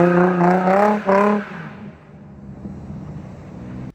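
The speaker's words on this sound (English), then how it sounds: "the car will just kind of do a donut and smoke one tire, which is what everyone calls a one-wheel peel, a one-tire fire" A Nissan 350Z with an open differential revs hard in a few bursts on a single spinning wheel, the engine note wavering as the tire slips, then fading into a softer, distant rumble.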